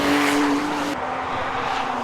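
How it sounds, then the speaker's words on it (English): A yellow race car roars past at the Zandvoort circuit during a 2013 BRSCC Porsche race. Its engine note drops in pitch midway as it passes close by, with no talking. "Here comes the yellow car of Jonathan Greensmith"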